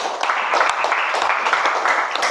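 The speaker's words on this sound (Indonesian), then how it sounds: "Beri tepuk tangan untuk temannya." Students in a classroom clapping for a classmate, a brief burst of many hands applauding together at close range, fairly loud and steady throughout.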